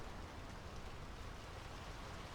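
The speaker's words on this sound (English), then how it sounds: "The rain's picking up." Rain falls steadily in the video game Draugen, an even, soft hiss of drops on surfaces that holds constant and fairly faint throughout, with no voices.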